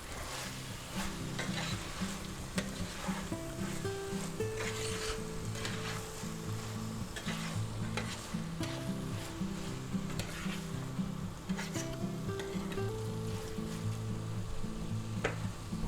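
Frozen peas, carrots, corn and beans sizzle steadily in a hot pan while being stirred, with occasional scrapes and clinks of the utensil, close and continuous.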